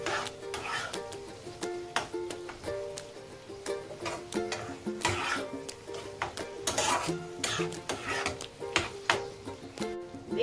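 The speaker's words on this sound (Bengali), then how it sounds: "এখন আমি বেগুনটা একটু নেড়ে দেব, তাকে নিচ থেকে লেগে না যায়।" Brinjal is stirred in a cooking pot with repeated scraping and clattering strokes of a utensil over a soft sizzle, close by and uneven in rhythm.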